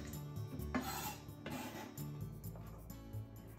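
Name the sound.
sweet potato pieces being put into a bowl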